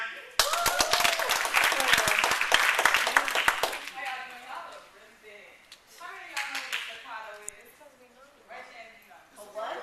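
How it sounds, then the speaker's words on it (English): A poetry slam audience at the University of South Florida breaks into dense, loud clapping for about four seconds, then the applause stops and a voice talks over a quiet room. "Y'all clap it up for Slam."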